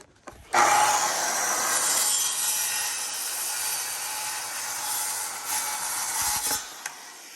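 A Makita table saw spins up and cuts wood trim for a custom Dutch door, giving a loud, steady, whining rasp that holds for several seconds before easing off.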